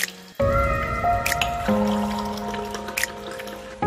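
Water trickles steadily into a container during packing, a close, continuous ringing stream with a few small splashes and drips.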